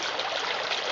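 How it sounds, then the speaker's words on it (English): Creek water flowing steadily outdoors, a continuous close rush and trickle of moving water with no pauses and no voices. "the energy of the creek, the energy of this moving water for your clearing"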